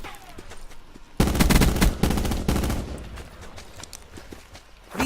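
A Swordfish burst rifle in Black Ops 4 Blackout fires a loud, close stretch of rapid shots, with faint scattered pops in the game background before and after.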